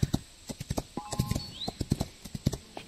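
Horse hooves clop in a steady galloping rhythm in the video game Rival Stars Horse Racing, close and crisp, with a brief rising whistle-like tone partway through.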